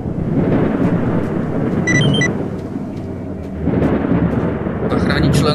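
Thunderstorm in the dark valley of STALKER: Shadow of Chernobyl, a loud continuous rumble of thunder and pouring rain, with brief faint electronic beeps over the top.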